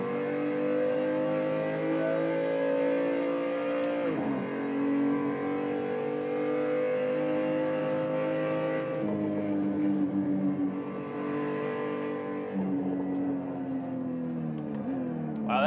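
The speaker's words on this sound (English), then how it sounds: "I'm all set up to drive on the Nurburgring for the first time" A race car engine on the Nurburgring, simulated in a full-motion racing sim, revs and shifts through gears, climbing and dropping in pitch with no voices heard.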